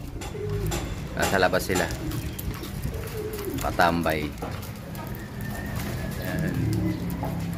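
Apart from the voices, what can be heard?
pigeons cooing outside the loft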